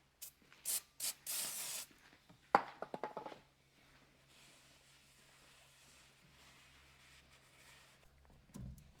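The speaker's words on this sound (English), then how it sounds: "you just saw me clean off the rotor with some brake clean" Brake cleaner sprays onto the front brake rotor of a 1997 Dodge Dakota V8 in several short, loud hissing bursts close by, followed by clatter and a long quiet stretch with low hum.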